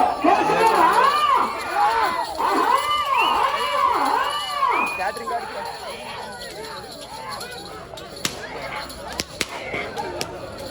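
At a village bull race during a Peerla festival, a crowd whistles and shouts over loud, rising and falling whistle sweeps. The noise thins out toward the end, where a few sharp cracks sound, with voices and chatter throughout.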